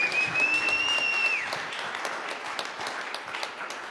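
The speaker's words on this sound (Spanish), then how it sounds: "Dale palmas al Rey" A church congregation claps in praise during a Spanish-language sermon, steady crowd applause with a held tone ringing over the first part, then the clapping carrying on alone at moderate level.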